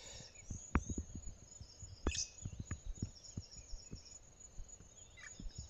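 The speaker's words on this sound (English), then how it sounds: "right above him you can hear a bird calling. It's called the fork-tailed drongo" A fork-tailed drongo calls overhead in the open bush, giving sharp, scattered notes and clicks in an irregular rhythm against a quiet background of soft ambient noise.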